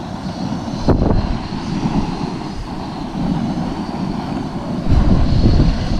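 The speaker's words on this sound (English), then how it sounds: "Still windy, but I got a bit of shelter here." Gusts of wind buffet the microphone outdoors while backpacking, low rumbling bursts with two sharper thumps, the blustering rising and falling throughout.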